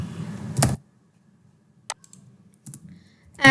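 Computer keyboard keys tapped while deleting code, heard as a few short separate click bursts in an otherwise quiet room, with a louder clack at the start and another at the end.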